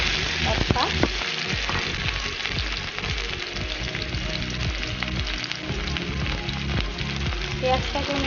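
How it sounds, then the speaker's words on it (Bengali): Chopped onion frying in hot oil with panch phoron and a dried chili, a constant close crackling sizzle with occasional stirring scrapes in the pan. "পেঁয়াজটাকে আমি লাল লাল করে ভেজে নেব"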